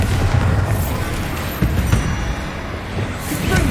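A Bombarda spell explodes in Hogwarts Legacy, a loud booming blast with rumbling debris and a second burst partway through, dense and close.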